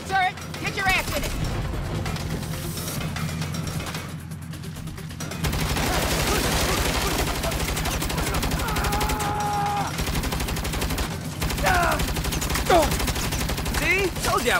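Mounted turret gun in Saints Row firing in sustained bursts of rapid, heavy shots, with people shouting and talking over the gunfire throughout.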